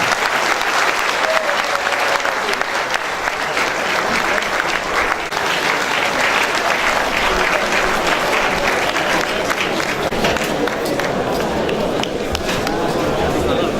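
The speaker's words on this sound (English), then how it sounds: "Let's give her a round of applause again, please." Sustained audience applause during a university inaugural lecture, loud, close and continuous throughout, with a bright, dense patter of many clapping hands and a faint voice mixed in at times.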